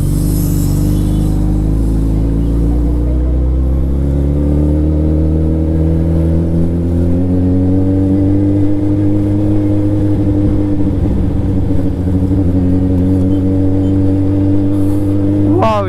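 A Suzuki Hayabusa motorcycle on a ride produces a loud, heavy engine drone close by, its pitch climbing steadily as it accelerates, with wind rush throughout.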